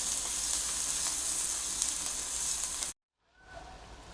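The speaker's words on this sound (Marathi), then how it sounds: "एक कांदा चिरून घेतलाय तो घालतो कांदा थोडासा परतून घेऊया" Chopped onion sautéing with curry leaves in a pan for a carrot stir-fry, giving a steady, close sizzle that cuts out abruptly near the end before a quieter frying hiss returns.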